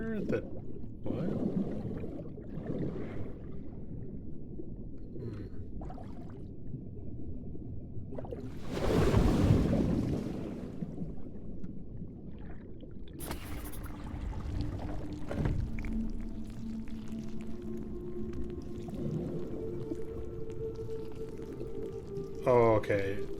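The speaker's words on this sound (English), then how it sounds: "I got another gust of water that" A rushing gust of water in the game Call of the Sea, a broad surging whoosh that rises and falls mid-clip amid watery rumbles and game tones, with a person talking intermittently over it.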